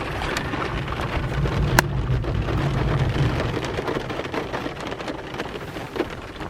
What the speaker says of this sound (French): Je sais pas si vous avez entendu le coup de tonnerre.